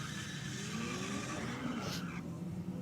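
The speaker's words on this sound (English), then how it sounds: "Oh, big turn of the tyres by the sound of it." A Falcon race car launching hard with its tyres spinning, engine note rising under a broad hiss of wheelspin and skidding, fairly close and continuous.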